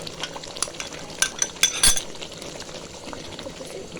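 Chicken korma sizzling in a pan as yogurt is stirred in, a spoon scraping and clinking against the pot over a steady low frying hiss, with a few sharper knocks near the middle.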